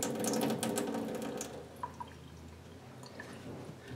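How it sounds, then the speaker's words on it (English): Water poured through a wetland sponge model drips into a cup: a wet pouring rush at first fades into a few distinct, separate drips, close and quiet. "you again pour the same amount down into the sink"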